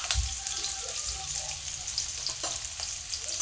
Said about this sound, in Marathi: याच्यामध्ये आपण कढीपत्त्याची पानं टाकणार आहोत 4-5. थोडी लसूण टाकणार आहोत.